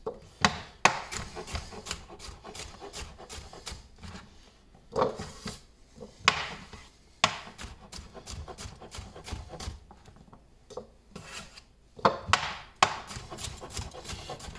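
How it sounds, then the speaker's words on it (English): A knife cuts bell pepper into small bite-sized wedges on a board for Mongolian beef, giving a run of sharp, close, irregular chops and taps with short pauses between them. "So I just want to cut these up into random little wedges"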